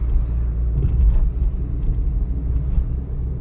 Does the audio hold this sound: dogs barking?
no